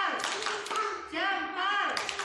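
Children clap hands together during a kindergarten classroom clap chant, a steady patter of many small claps mixed with chanting voices and a teacher's speech throughout.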